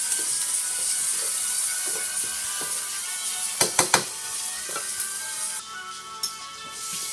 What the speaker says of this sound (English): Toss the vegetables